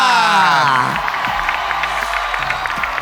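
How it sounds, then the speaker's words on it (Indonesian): Studio audience at an Indonesian televised dance competition show cheering and clapping for a judge, a loud crowd roar with whoops that settles into steady applause throughout. "Selanjutnya kita kasih tepuk tangan untuk Bunda Maya."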